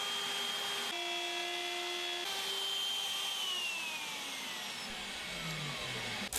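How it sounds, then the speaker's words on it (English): A handheld router trims and breaks the edges of wooden tool-cabinet parts in a workshop, a loud steady high-pitched whine that shifts pitch a couple of times and slowly sags toward the end, with no talking. "Just breaking the edges and fixing some accidents with the router"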